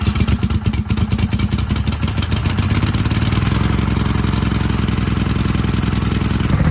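An old garden tractor engine that sat unused for ages sputters as it catches, then settles into a loud, close, steady chugging run with rapid clattering firing pulses.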